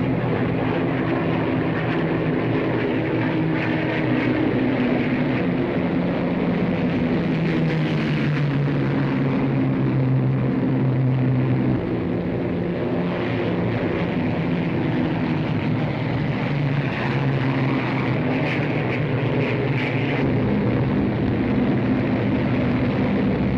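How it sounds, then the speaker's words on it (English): Twin-engine towing planes haul gliders into the air, a steady, loud propeller-engine drone that holds for the whole stretch with no voices. "the motorless craft hook up to the planes and are quickly hauled up into the air"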